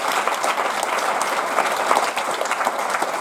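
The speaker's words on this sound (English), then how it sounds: "Can you give him a round of applause, please?" Audience applause at a tribute concert, a dense, steady patter of many hands clapping close and loud throughout, with no voices over it.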